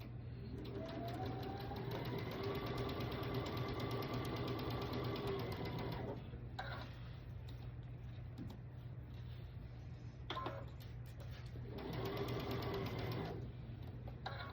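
A sewing machine stitches a quarter-inch seam across a fabric door hanger, a steady close whirring run of about six seconds, then a short pause with small handling clicks and another burst of stitching.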